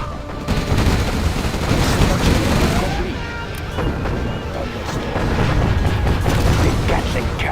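Gatling cannon fire and explosions in the real-time strategy game Generals Zero Hour, a loud, dense stream of rapid shots and booming blasts with unit voice lines mixed in.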